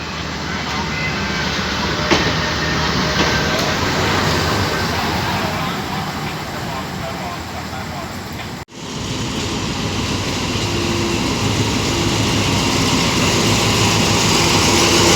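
A crude oil freight train, number 2133, rolls past on the rails from the Bangchak refinery in Thailand at night, giving a loud, steady rumble and rattle of wagons that runs the whole time with a brief dip partway through.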